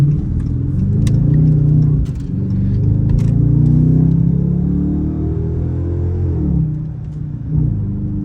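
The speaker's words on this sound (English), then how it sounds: "the sound on the V8, bro, the V8 Dodge Charger RT is pretty crazy." A 2022 Dodge Charger R/T with a V8 engine rumbles steadily from inside the car, a deep continuous drone that swells and eases slightly as it drives, with no talking over it.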